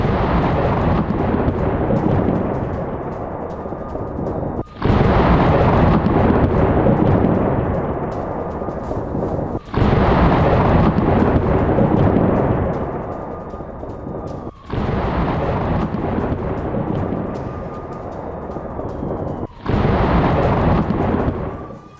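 Heavy explosions from Israeli air strikes on Hezbollah positions, four long rumbling blasts each starting abruptly and rolling out over several seconds, loud and booming like thunder.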